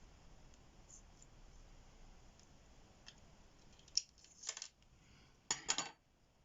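Scissors cutting a strip of cross-stitch fabric, with a few faint ticks followed by two short crisp snipping bursts, close and quiet against soft background hiss.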